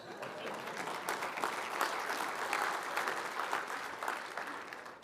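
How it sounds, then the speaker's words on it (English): Sustained, loud applause from a large audience at an annual business meeting keynote, rising slightly in intensity and continuing steadily for several seconds. "A louder round of applause."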